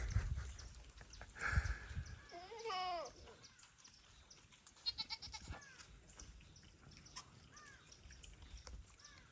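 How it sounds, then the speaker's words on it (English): Several goats at an animal sanctuary bleat in short wavering calls, one loud and close near the start, others fainter, over a soft outdoor background. "she is so excited to see the goats"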